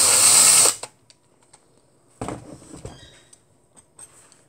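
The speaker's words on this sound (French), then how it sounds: "Vous leur donnez un petit coup de perceuse." A short loud whir of a power drill, used while restoring a Majorette toy car, that cuts off abruptly, followed by quiet clicks and light rattling handling noises.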